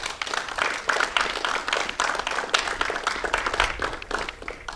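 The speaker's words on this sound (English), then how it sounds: "huge round of applause." Audience applause from a modest crowd, with irregular, uneven claps that swell and dip in loudness for several seconds without any talk over it.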